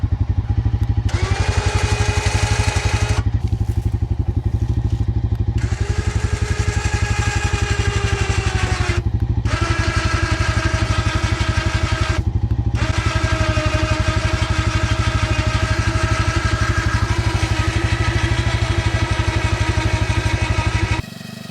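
A sawmill's engine, rusty after months sitting idle at the shop, runs steadily at a loud, even idle for the whole stretch, with a faint clatter and brief dips in its tone.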